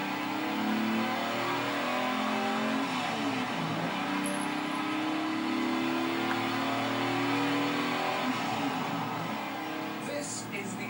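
A Lamborghini Miura engine revs and drones loudly and steadily at close range, holding a sustained, throaty tone throughout.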